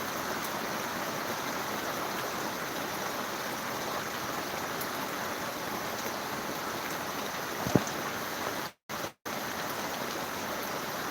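Heavy out-of-season rain pours down on Dumlav village in Pardi taluka, South Gujarat, in late October: a steady, dense hiss of rainfall that holds at the same level throughout, broken only by two brief dropouts near the end.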